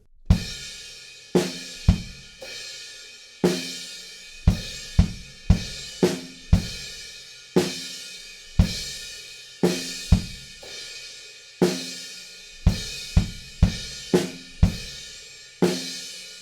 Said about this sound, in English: you could definitely open up and start rocking out over on the crash cymbal